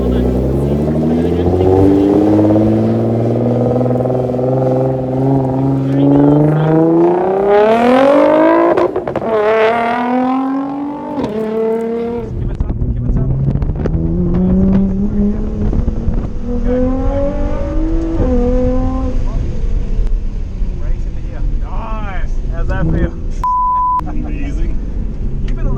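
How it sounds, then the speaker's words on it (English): A Nissan GT-R supercar on a race track heard from onboard, its engine rising through gears in repeated revving climbs and shifts, loud and close, with a driving instructor talking over it. "we'll take a look at a little bit of onboard footage now with the Nissan GT-R"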